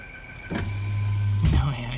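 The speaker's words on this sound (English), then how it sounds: "Let me open up the window." A power window lowers on a 2012 Chrysler Town & Country with a 3.6L engine, its motor whirring steadily for about a second between two short clunks, heard up close inside the cabin.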